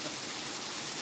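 Steady rain falls in a dense, even hiss with no breaks, fairly close and alone.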